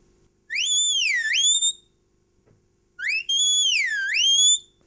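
A shepherd whistles a go-left command to a Border Collie sheepdog in the Scottish Borders, a long, loud, swooping call that rises, dips and rises again. It is given twice, each lasting over a second, clean with no voices.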